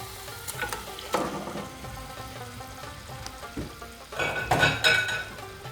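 Half a kilo of bone-in beef fries in masala for palak saag gosht, sizzling with scraping stirs and clinks of utensil against pot that grow louder near the end.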